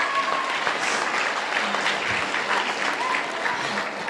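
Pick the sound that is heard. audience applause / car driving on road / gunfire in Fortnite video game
audience applause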